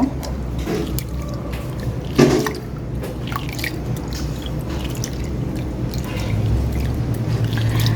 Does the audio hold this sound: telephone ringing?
no